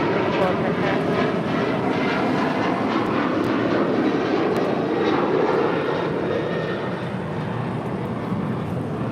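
A United Airlines Boeing 737-900ER taking off from runway 25 right, its jet engines a loud, steady roar that fills the whole clip with no break.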